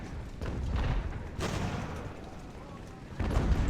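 Artillery fire in Ultimate Admiral: Age of Sail, a naval-era strategy game: several deep booming shots land in a steady rumble of battle, with a strong blast near the middle and another at the end, under faint background voices.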